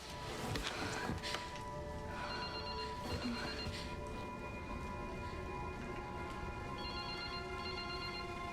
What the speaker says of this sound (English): Don't answer the phone.